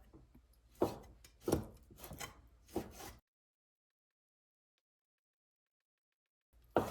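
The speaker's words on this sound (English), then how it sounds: "Now let's prep the pork. So we just want to make it a slice, right?" A knife slices through pork on a wooden cutting board in several close, rasping strokes, each a short rub ending in a soft knock, followed by about three seconds of silence.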